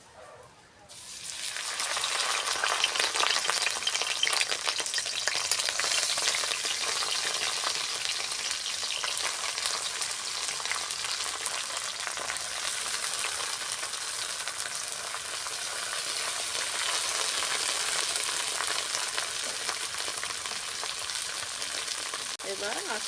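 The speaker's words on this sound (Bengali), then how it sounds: "তেল গরম হয়ে গেছে, এবার বড়াগুলো দিয়ে দেব তেলেতে।" Fish and pumpkin-leaf fritters dropped into hot oil set off a loud, bubbling sizzle about a second in, which then holds as a steady close hiss with faint crackles to the end.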